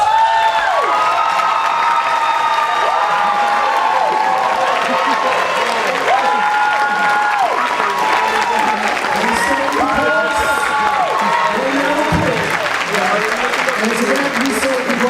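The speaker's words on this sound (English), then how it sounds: "give a thunder clap for our graduates" A graduation audience of parents and guests stands and applauds the graduates, dense sustained clapping mixed with cheers and whoops, while voices shout and call out across the hall.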